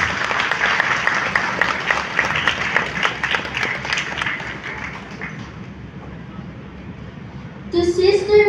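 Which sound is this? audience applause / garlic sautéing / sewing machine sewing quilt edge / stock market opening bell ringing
audience applause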